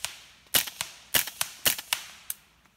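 A .22 rifle fires at a rock outdoors, giving a series of sharp, fairly faint cracks and snaps spread over a few seconds, each short and distant-sounding, with no talking.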